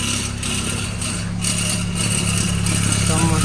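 A BMW 328i idles loudly up close with a steady low rumble and a metallic rattling buzz from the exhaust running through it.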